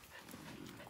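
A shepherd dog that guards sheep, in a village in Spain, makes a brief, faint sound buried under a wash of hissing background noise.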